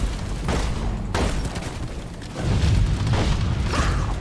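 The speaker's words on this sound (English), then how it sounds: "Slow grenade." A grenade detonating in the cooperative mining shooter Deep Rock Galactic, a booming blast with crackling debris, followed by a second louder low rumble amid ongoing game noise.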